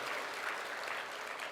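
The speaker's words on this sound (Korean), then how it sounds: "우리 경제하는 사람들 수고한다고 격려 박수 한번 해줘요." A church congregation claps in encouragement during a Sunday sermon, a steady, even wash of many hands that stays fairly quiet throughout and has no voices over it.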